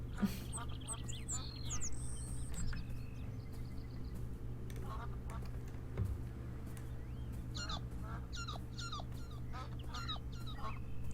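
Several nasal quacks and honks from ducks in the video game Beyond Eyes, in bursts near the start and again later, moderately loud over a constant humming ambience.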